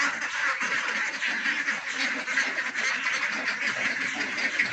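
A flock of colourful farm ducks quacks continuously and busily, many birds calling at once at close range with no voices over them.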